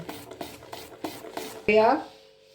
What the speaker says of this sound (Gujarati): મિક્સ કરી લઈએ।